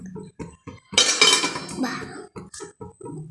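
A metal lid clanks onto a pan of frying rice with egg, with several sharp clinks and scrapes of cookware, a louder clattering burst in the middle and short knocks before and after, close by.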